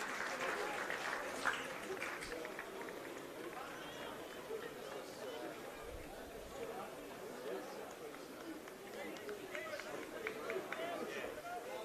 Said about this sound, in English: The applause comes here for David Vrankovic.